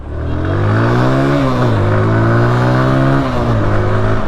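A TVS Apache RTR 160 motorcycle accelerates hard, its engine note climbing through rising revs with a shift or two, loud and close with no voices.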